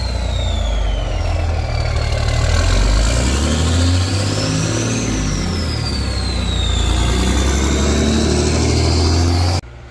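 A Cummins diesel engine fitted with a 5-inch stainless steel exhaust runs loud and close, a deep steady idle with some revving and shifting pitch throughout, cutting off abruptly at the end.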